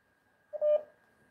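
One short electronic telephone tone on a call, a clean steady beep lasting about a quarter second against near silence, with no one speaking.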